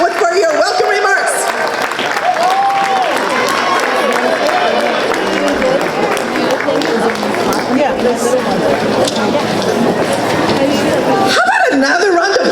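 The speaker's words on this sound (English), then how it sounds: "How about another round of huge applause for this amazing woman?" A crowd at a Lunar New Year celebration opening ceremony claps steadily, a loud, dense, sustained wash of applause and cheers with voices mixed in.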